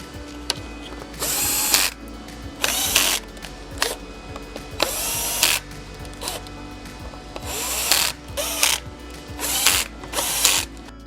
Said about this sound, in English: We're going to remove these 4 screws.